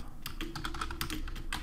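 Keys clatter steadily as code is typed on a computer keyboard, a quick run of close, crisp clicks with no talking over them.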